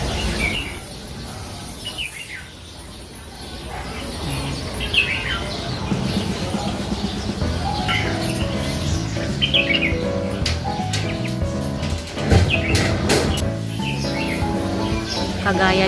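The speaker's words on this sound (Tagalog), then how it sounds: "Mga ibon na nandito sa loob ng pagoda." Many birds chirp and call inside the Yuen Long Park Pagoda Aviary in Hong Kong, a busy overlapping chorus of tweets and squawks heard under a person talking.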